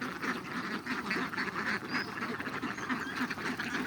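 A flock of farm ducks, just let out of their shelter in the morning, quack continuously in overlapping bursts, close by and fairly loud.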